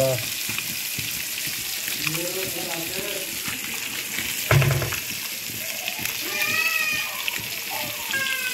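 Fish frying in a pan for a tribal-style fish fry, a steady sizzle running throughout with intermittent voices and small clatters over it, louder bursts of splatter partway through.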